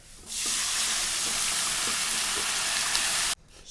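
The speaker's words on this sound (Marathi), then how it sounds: "तर गरगटून घेतलेली भाजी मी आता ह्यात ओतून घेते" A mashed vegetable bhaji is poured into hot oil mixed with turmeric and erupts into a loud, steady sizzle that holds for about three seconds before cutting off abruptly.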